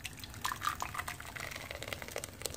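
Green salsa is poured into hot oil over low heat, giving a soft liquid splash and gurgle with faint sizzling, quiet and uneven, trailing off into a light crackle.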